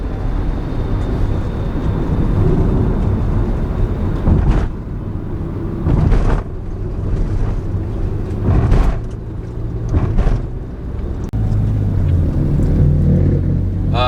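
A remapped and scanned car on a test drive pulls from near standstill, its engine swelling and easing in repeated surges of acceleration, heard up close from inside with a few sharp knocks along the way.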